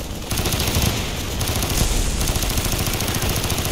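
Rapid, dense gunfire from Call of Duty Black Ops, loud and continuous automatic bursts filling the scene with a steady crackling roar and no talk.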